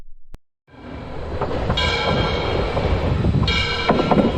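Train on the Trans-Siberian Railway rumbling steadily and loudly along the track, with a sharp click at the start and brief high squeals or horn-like tones in the middle and near the end.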